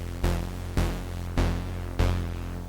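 Four plucked notes from a Serum software synth with the filter turned off, played for retro-style sound design. Each one strikes sharply and decays with bright, buzzy harmonics, spaced evenly about half a second apart, with no voice.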